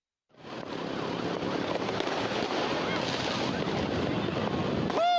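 Firecrackers burst in a dense, continuous crackle during a New Year's Eve street clash between residents and a motorbike gang on Jalan Gunung Bawakaraeng in Makassar, South Sulawesi, loud and close, with a rising whistle at the end.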